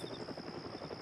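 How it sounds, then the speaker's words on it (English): In the video game DayZ, a helicopter flies over the Lingor map. Its faint, distant rotor throbs steadily and evenly under a thin constant whine. "one of them is attempting to land, like the helicopter plane"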